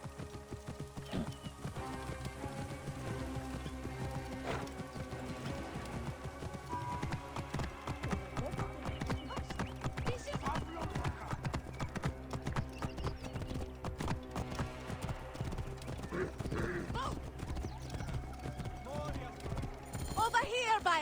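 A horse's hooves clip-clop at a steady pace in Assassin's Creed Origins, with occasional neighing, under game music and characters talking, quiet overall.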